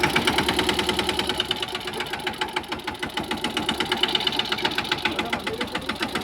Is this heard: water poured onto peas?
no